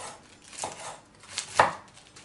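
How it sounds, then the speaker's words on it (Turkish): Sharp knife slicing lettuce on a cutting board in a home kitchen, heard as two or three quiet, crisp cuts spaced apart, the last the loudest, with no talking. "Keskin bir bıçakla tahtanın üzerinde incecik doğrayalım."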